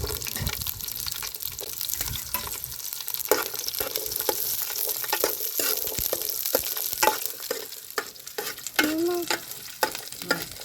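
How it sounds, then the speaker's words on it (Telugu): Green chillies and garlic sizzle and fry in a pan for village-style roti chutney, with steady crackling, stirring scrapes and some splashing water, close and fairly loud with no talking. "ఇవన్నీ ఈ పచ్చిమిరపకాయలు ఎల్లిపాయలు కూడా ఫస్ట్ అయితే ఏగని"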